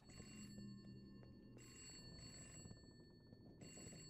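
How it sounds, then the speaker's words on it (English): Old-style telephone bell in a horror game rings in repeated bursts of about a second each with short pauses between, faint and distant over a low background hum, no talk. "Where's the phone ringing at?"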